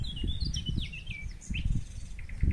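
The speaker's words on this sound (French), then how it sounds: "Ah, les oiseaux," Birds chirping outdoors, several high twittering calls sliding up and down close by over a low rumbling background, with no talk.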